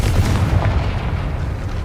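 A Confringo fire spell blasting in Hogwarts Legacy, a loud, dense, rumbling explosion that fills the moment and holds steady as a sustained roar without fading.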